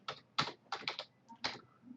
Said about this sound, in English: typing in VirtualBox